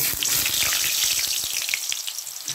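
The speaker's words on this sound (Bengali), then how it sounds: "তো তার জন্য আমি কড়াইতে তেল দিয়ে দিয়েছি, তেল গরম হয়ে গেছে। এবার আমি প্রথমে আলুগুলো ভেজে নেব।" Potatoes fry in hot oil in a kadai, a steady close sizzle with scattered crackles and pops running throughout.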